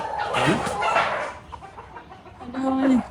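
Hens cluck and call on a farmhouse poultry farm, several short clucks and a drawn-out call near the close, with a person talking nearby over them.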